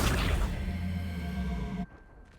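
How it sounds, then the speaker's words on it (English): Accio, the summoning spell in Hogwarts Legacy, opens with a bright whooshing swish and settles into a humming magical tone with a steady shimmer, then cuts off abruptly near the end, leaving quiet. "Accio!"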